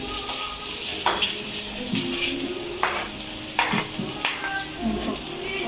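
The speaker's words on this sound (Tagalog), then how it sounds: "Nagigisa po muna natin siya." Garlic sautéing in a pan for chicken adobo gives a steady, close sizzle with a few scraping stirs and clinks over it. There is no talk.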